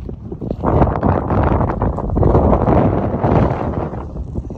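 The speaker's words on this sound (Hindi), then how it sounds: "हवा का शोर चेक करें, आपको अंदाज़ा होगा कि क्या हवा चल रही है" Strong wind blows at Kenjhar Lake in Sindh, a loud buffeting roar that batters the microphone in continuous gusts for several seconds.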